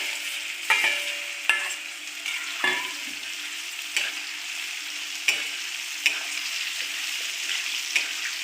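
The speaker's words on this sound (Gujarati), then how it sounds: "ધીમે ધીમે હલાવીને એક સરખા કરી લઈશું" Potatoes fry in a pan seasoned with curry leaves, bay leaf, red chilli and sesame, with a steady close sizzle broken by about ten sharp scrapes and knocks of a spoon stirring the pieces, no voices.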